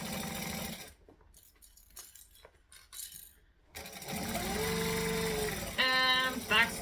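Sewing machine stitching a fabric handbag, bursts of motor whir and rapid needle rattle around a quieter pause, with a short backstitch run at the end.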